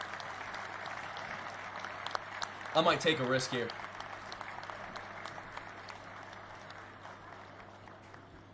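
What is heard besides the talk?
audience clapping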